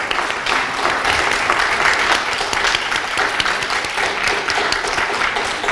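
An audience applauds at a talk on philosophy and feminist studies, steady dense clapping holding at an even level throughout with no voices over it.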